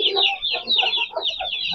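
Chickens cluck close by around newly hatched chicks of an Aseel breed setup, a busy run of short, repeated clucks and calls overlapping one another.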